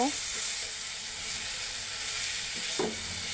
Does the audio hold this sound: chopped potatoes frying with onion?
yes